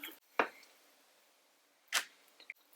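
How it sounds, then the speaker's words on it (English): Two short bursts of water spray hitting Snazaroo face paint, each a quick hiss, with a faint click between them, close and fairly quiet. "I'm just gonna spray it with some water"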